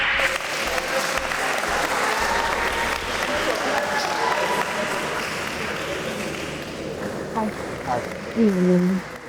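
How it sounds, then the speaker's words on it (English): Audience applause at a speed dating event, a dense sustained clapping from a crowd lasting the whole stretch, with a voice talking over it toward the end. "Round of applause."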